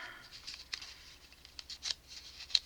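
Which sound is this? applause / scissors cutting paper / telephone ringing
scissors cutting paper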